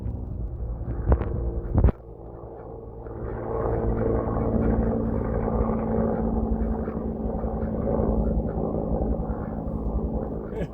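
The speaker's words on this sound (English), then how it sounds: "we have a lot of air traffic going over us" Aircraft and helicopters passing overhead during an active wildfire, a sustained low rotor and engine rumble that swells and holds steady for most of the stretch after two brief sharp knocks near the start.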